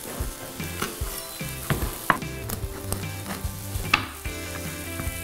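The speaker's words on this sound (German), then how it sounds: "Jetzt kommen die Zwiebeln in die Butter. Die Zwiebeln fangen schön an zu braten." Onions sizzle in melted butter in a pan, a bright, continuous crackle close by, punctuated by frequent clicks and scrapes of stirring.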